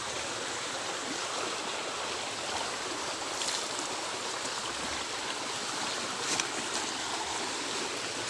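A rising river's fast-moving water rushes steadily in a continuous broadband roar, fairly faint and unbroken, with no voices.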